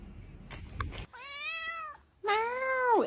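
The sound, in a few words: cat meowing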